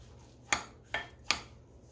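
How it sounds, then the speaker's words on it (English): Sugar stirred into cranberry orange relish, heard as three crisp, evenly spaced clinks of a utensil against a bowl, close but faint in a quiet kitchen. "combine and stir in 2 cups of sugar"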